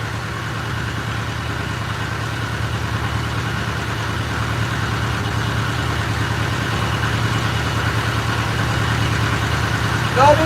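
A boat engine idles low with the throttle pulled back, a steady close mid-low drone with fine regular pulsing, holding even and unbroken throughout.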